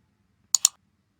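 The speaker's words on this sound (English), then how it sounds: "I'm clicking on this" A Mac computer mouse gives two quick clicks in close succession, crisp and near against a silent background.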